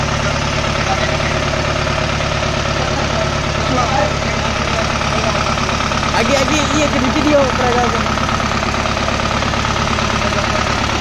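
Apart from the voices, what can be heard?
rice milling machine powered by a Toyota Dyna engine running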